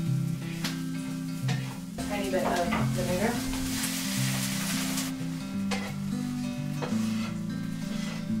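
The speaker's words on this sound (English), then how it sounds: "I need to finish the caramelized onions. I'm going to add a little bit of sugar just to help the caramelization process" Onions caramelizing with a little sugar in a pan, a loud, continuous sizzle and crackle with occasional stirring scrapes and clinks throughout.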